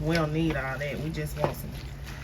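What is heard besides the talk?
No everyday noises stand out.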